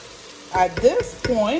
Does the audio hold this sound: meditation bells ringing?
no